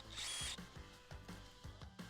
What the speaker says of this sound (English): Now we'll drill out the 3 rivet heads that hold the right cap to the end of the roller tube.